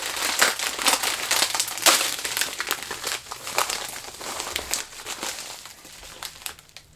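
A paper mailing envelope from a publisher is handled and torn open up close, with loud, repeated crinkling and rustling bursts that fade toward the end.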